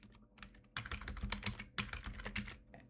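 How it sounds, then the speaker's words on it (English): Rapid typing on a computer keyboard: two close bursts of dense, irregular key clicks with a short pause between them, and no voices. "let's type something here"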